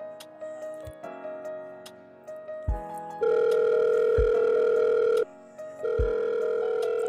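A phone ring tone repeats unanswered, with steady tonal bursts starting soft and intermittent, then turning into longer, louder sustained tones with short gaps, heard alone without any talking.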